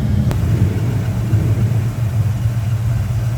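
Engine of a car being driven around the back of a shop, near a 1981 Chevrolet Camaro Z28 with a 305 V8, giving a steady low idling rumble throughout with no talk.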